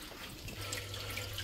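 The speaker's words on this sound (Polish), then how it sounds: "tylko delikatnie się wylewa woda" Water from a 12V pump pours gently through filter wool into an aquarium, a soft, continuous trickle and splash with a faint low hum beneath it.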